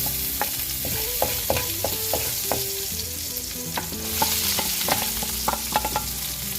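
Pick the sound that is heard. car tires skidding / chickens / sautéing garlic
sautéing garlic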